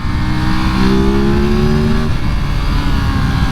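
A loud 2023 Ducati Monster SP motorcycle engine revs hard through its stock exhaust silencer, its exhaust note rising in pitch and then holding a steady, throaty roar close by.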